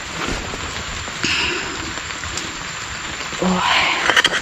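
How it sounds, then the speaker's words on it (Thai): Heavy rain pours steadily through tall rainforest trees, a dense unbroken hiss with a few louder gusts and drips, close and continuous with no voices. "นี่ตอนนี้ก็ตกอีกแล้วนะ"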